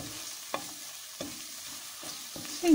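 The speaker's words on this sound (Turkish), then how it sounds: "salçamızı da güzelce kavuruyoruz arkadaşlar soğanla beraber" Tomato paste frying with onions in a pot, a soft continuous sizzle punctuated by a few sharp spoon scrapes and stirs at regular intervals, close and without talk.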